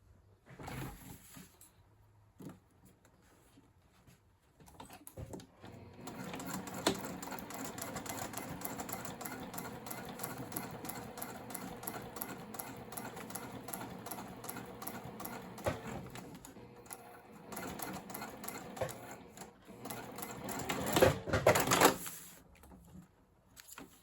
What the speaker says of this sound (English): I'm just going to go to the machine and I'm going to finish these off, top stitch